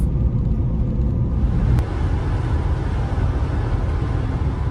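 Van rolling along a Utah road through a snowstorm, a steady heavy low rumble of engine and tires filling the cabin, close and constant with a single brief click partway through.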